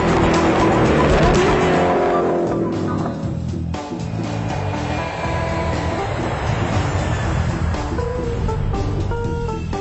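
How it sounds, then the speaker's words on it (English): Koenigsegg Agera R supercar with 1140 horsepower at full speed on a racetrack or private runway, a loud, sustained engine roar with dense mechanical noise that stays strong from start to finish. "drive their Agera R to the limit on the racetrack and on their own private runway"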